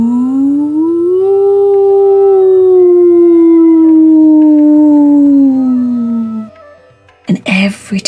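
A human voice imitating a wolf howl, one long sustained close call rising then slowly falling in pitch for about six seconds, followed by a short burst of speech.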